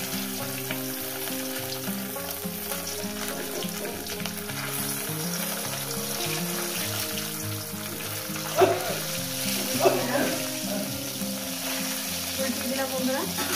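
Parshe fish fry in hot oil in a pan, giving a steady crackling sizzle that continues throughout, with a few louder spits partway through and soft background music underneath.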